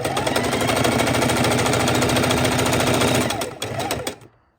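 A sewing machine stitches raw edge appliqué with a short stitch length, a loud, close, rapid mechanical chatter running steadily for about three seconds before slowing in a short burst and stopping.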